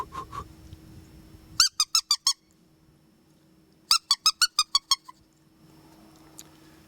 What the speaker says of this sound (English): it's a little tougher to make your mouth squeaks per se, just by putting your lips on the very tip of the call and just huffing air through